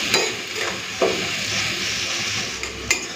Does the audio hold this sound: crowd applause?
no